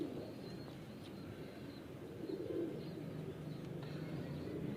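Low, soft cooing of Dogar breed high flyer pigeons, a steady murmur with a slightly louder swell midway, heard close up against faint background noise and no talk.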